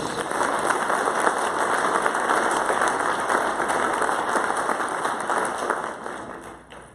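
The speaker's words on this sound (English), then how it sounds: "Round of applause for Lisa Weller, Western Region 6." Convention audience at an opening ceremony applauding, a dense sustained wash of many hands clapping indoors that holds steady and fades out toward the end.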